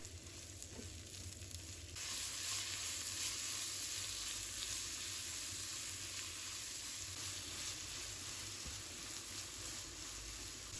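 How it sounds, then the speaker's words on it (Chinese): King oyster mushrooms and carrots stir-fry in a wok with minced garlic, giving a close, steady sizzle that jumps louder after the first couple of seconds and then holds constant. "然后把杏鲍菇、胡萝卜倒入锅中，把它炒香，炒至断生。"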